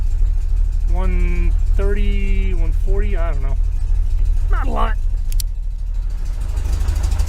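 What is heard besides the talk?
1973 VW Super Beetle engine idling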